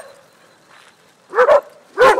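A Great Pyrenees guard dog gives two loud, close barks in quick succession at poodles, after a quiet stretch with only faint background sound.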